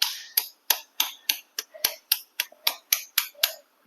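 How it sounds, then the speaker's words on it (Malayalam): A rapid series of about a dozen sharp, crisp cracks and taps of eggs being cracked, evenly spaced and close up, with no voices. "അപ്പം നമുക്ക് മുട്ട പൊട്ടിച്ച് ഒഴിക്കാം"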